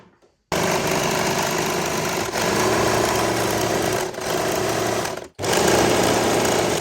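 Sewing machine running steadily while stitching a folded palazzo pant hem, a continuous loud whirring hum with three brief pauses, the last a near-silent gap before the stitching resumes.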